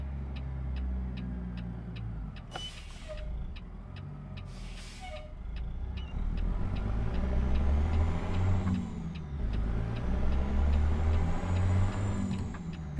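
A heavy truck engine in a video game, a Caterpillar 3406B in a Peterbilt 389, drones and rumbles, revving up and down, with short bursts of air hissing and faint ticking in the background.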